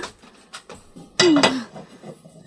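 Pots and pans clatter during home cooking in an Ilocano drama: one sharp metallic clang and rattle rings out loudly for a moment amid quiet, with faint soft knocks before and after.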